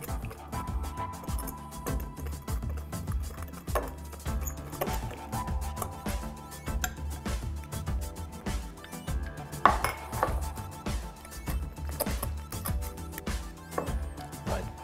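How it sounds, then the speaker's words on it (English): A fork clinks and scrapes steadily against a bowl while mixing milk and eggs into flour for Yorkshire pudding batter, a close, fairly quiet run of rapid metallic taps. "Now using a fork, I'm just going to mix the milk and the eggs with the flour"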